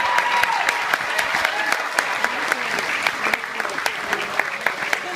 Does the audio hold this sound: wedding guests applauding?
yes